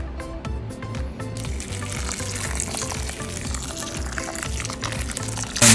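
Hot boiling water poured over chicken and rice in a pan, a steady close splashing pour that carries on evenly for several seconds, with no talking.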